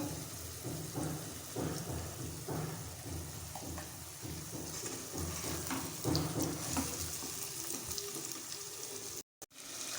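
Potatoes with ground coriander, salt and spices sizzle in a pan as they are stirred, a steady broadband frying hiss with repeated scraping strokes throughout, close and fairly loud, with a brief dropout near the end.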